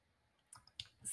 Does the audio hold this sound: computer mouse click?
yes